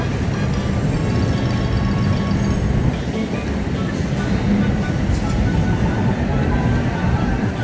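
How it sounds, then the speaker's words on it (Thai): A Bangkok Skytrain Gold Line train arrives at Charoen Nakhon station with a loud, steady rumble and rushing noise that fills the whole stretch. Traffic-like drone sits beneath it, with no clear talk. "โอ้โห รถไฟฟ้ามาแล้วครับ"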